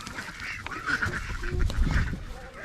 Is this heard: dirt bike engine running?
no